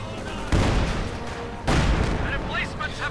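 Mortar rounds burst in the strategy game Company of Heroes 2, two heavy booming impacts about a second apart over a constant rumble of battle, with a commentator talking throughout.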